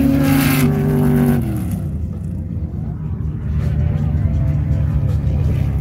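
Fast sand drag racing vehicles at Glamis during a Veterans Weekend event, a loud engine roar and rising whine passing close, then a rumbling drone that fades back, with crowd talk mixed in.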